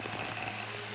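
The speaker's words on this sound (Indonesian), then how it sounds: "Ini kita bor beton semua." A power drill bores into concrete while an aluminium window frame is installed, a loud, close, continuous grinding buzz with a rattling hammer-like texture throughout the short burst.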